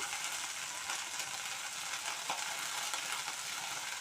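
Curry leaves fry in a little oil in a pan while making coriander chutney, giving a faint, even, continuous sizzle with no other sounds.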